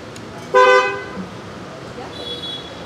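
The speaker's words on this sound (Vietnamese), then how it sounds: "Hẻm nhỏ này hay bị kẹt xe mà có xe hơi đi trong này." A car horn gives one loud, short honk in a narrow Saigon alley, then traffic hums and a fainter tone sounds near the end.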